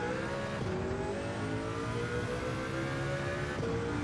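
Mercedes CLK racing in Gran Turismo 7 on Sardegna Road A, engine droning steadily under hard acceleration with rising harmonic pitch and a brief gear-change dip, continuous and fairly quiet.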